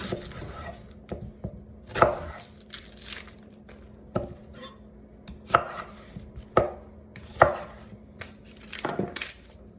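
A knife chops onions on a board for beef stock, with irregular sharp close thuds, some in quick clusters and others spaced a second or more apart, each with a crisp crunch.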